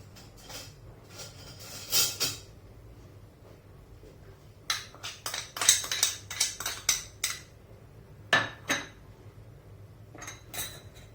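Metal pans and utensils clatter and clink in a home kitchen while a Moroccan mallow dish is prepared, with a frying pan set down and handled: scattered sharp knocks in bursts, close and fairly loud, with no talking.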